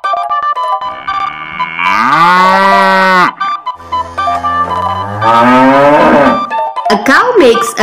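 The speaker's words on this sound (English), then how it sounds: "A cow makes a mow sound." A cow moos loudly several times up close, long drawn-out bellows rising and falling in pitch.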